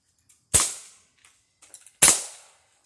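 Two sharp, close cracks from a .22 caliber air rifle firing pellets, spaced about a second and a half apart, with faint handling clicks between them.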